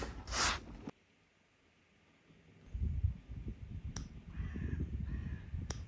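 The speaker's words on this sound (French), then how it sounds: "Le corbeau." A crow caws once, loud and close, then a quiet gap gives way to low rustling and scattered faint clicks.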